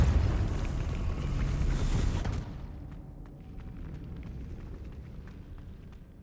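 Depulso spell cast in the video game Hogwarts Legacy, heard as a dense, loud whooshing blast that cuts off after about two seconds into a faint, rumbling tail with light ticks.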